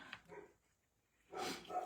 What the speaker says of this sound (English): there's Fiona barking at something.